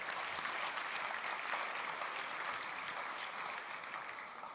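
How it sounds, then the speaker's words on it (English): Applause rises from a conference audience at a green start-up pitch competition during a greentech festival, a dense, even clapping sound that fades slightly toward the end. "Big round of applause."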